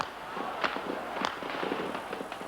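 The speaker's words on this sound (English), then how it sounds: "The noise of gunfire rose from all over the center of Peking." Gunfire echoes across central Beijing in 1989 around Tiananmen Square: a few sharp, faint cracks at irregular intervals, far off, over a low murmur of background noise.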